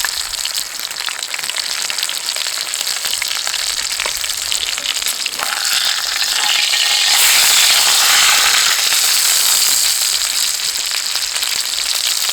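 A pork chop fries in a pan outdoors amid Scotland's wild landscape, a close, continuous crackling sizzle that swells louder partway through, with no talking.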